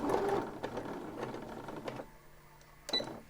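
A sewing machine stitches the side seam of a lined bodice, giving short, faint mechanical bursts of running stitches with brief pauses between them.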